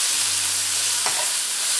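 A spoon stirs paneer bhurji with turmeric and salt in a hot pan, giving a steady sizzle and frying hiss with a short scrape, close and continuous.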